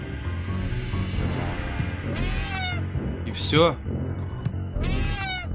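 Cat meowing in a Friday the 13th Killer Puzzle video game, several short meows and one louder wavering yowl over a low game soundscape, with someone talking throughout.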